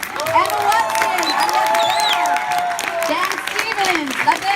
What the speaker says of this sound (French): Je vous demande d'applaudir, s'il vous plaît, bien chaleureusement